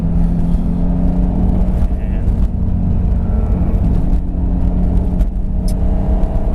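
A project car with a turbo setup holds steady at 3,000 RPM in second gear, its engine rumbling loud and close in a continuous drone, with a bit of talk over it.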